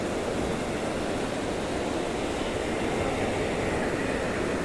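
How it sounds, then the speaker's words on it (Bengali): Steady broadband rumble and whoosh of a capsule lift descending inside an empty diamond market in Kuwait, a continuous even mechanical hum with no voices. "দেখেন এটার ভিতরে ক্যাপসুল লিফট নামতেছে।"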